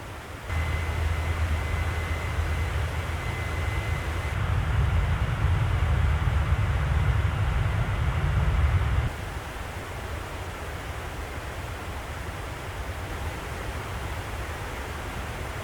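A Boeing 737-900 airliner climbs in Microsoft Flight Simulator 2024, heard as a steady broadband roar of engine and wind noise with a thin tone above it, growing heavier midway and then settling into a lower, even rush.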